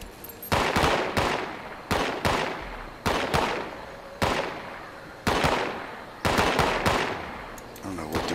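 Bursts of video game gunfire in a survival game at an abandoned bog workshop, about eight sharp volleys at irregular intervals, each a loud crack with a short decaying tail, no talk over them.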